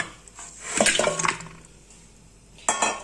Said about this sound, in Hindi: तो इसको गोश्त को हम डालेंगे कुकर में